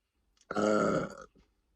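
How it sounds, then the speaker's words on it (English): A person lets out a single loud, close burp lasting under a second, deep and voiced, with a faint breath after it. "I'm about to burp."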